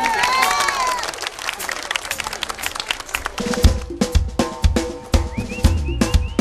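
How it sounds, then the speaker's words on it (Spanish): Live crowd clapping along in rhythm to a song at a Peruvian TV variety show performance, the steady beat of claps emerging over music and cheering in the second half. "vamos, vivimos con las palmas, ¿eh?"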